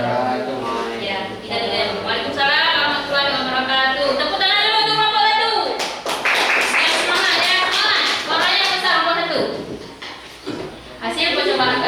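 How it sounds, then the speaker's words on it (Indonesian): A classroom of students claps for a student group in a physics lesson, with rhythmic, fairly close hand claps mixed with voices and chatter, the clapping pausing and resuming toward the end. "Tepuk tangan dulu untuk kelompok 1."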